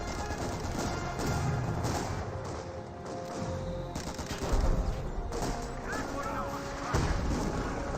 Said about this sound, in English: And it looks like I got some artillery coming in return.